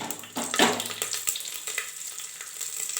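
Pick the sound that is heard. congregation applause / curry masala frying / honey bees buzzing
curry masala frying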